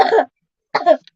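Someone coughs close up, two short bursts separated by a brief silence.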